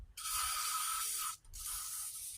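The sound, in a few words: spraying lubricant into quick hitch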